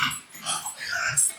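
Dogs growl and snarl while play-wrestling, close by, in a short burst of rough, breathy growls with a brief whimper-like rise near the end.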